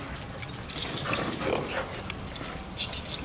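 A pack of dogs being readied for a walk, whimpering and yipping with high, thin cries over steady outdoor noise, close by, one louder whine in the middle of a short burst.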